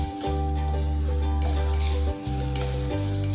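A steady motorised whir carries on while sponge cake batter is mixed with milk, breaking off briefly and resuming at a slightly different pitch.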